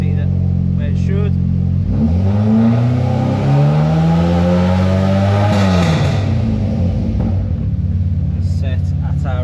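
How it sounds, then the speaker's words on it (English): Nissan Micra K11 track car with a twin-injection engine fires up and revs, the pitch climbing and holding before dropping back to a loud, steady close-up idle. "So if we fire the car up now"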